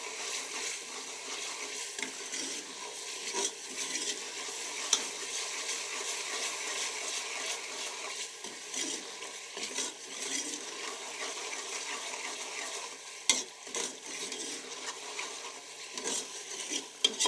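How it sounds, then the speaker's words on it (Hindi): Masala paste frying in a pan over high heat for a dal chana dish while a spoon stirs it, a continuous soft sizzle with repeated scraping strokes and a few metallic clinks, close and moderately quiet, with no talk. "आप भी कोशिश करें कि ऐसे ही चम्मच चलाएं आप। इस तरह परफेक्ट मसाला हमारा तैयार होगा"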